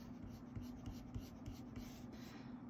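Alcohol markers colouring on paper, a soft steady scratching and rubbing of felt tips in quick repeated strokes, close and quiet with no talk.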